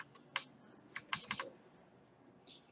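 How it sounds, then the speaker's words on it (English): Typing on a Deias Keyboard 4 mechanical keyboard: a few scattered, crisp keystroke clicks in short bursts, fairly quiet and close, with no voices. "This keyboard is a deias keyboard 4, and I really love it."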